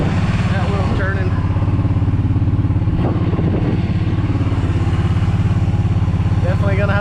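A Kawasaki Brute Force 750 ATV with broken steering runs steadily in low gear, its loud, close engine rumbling throughout with small rises in revs and some clatter.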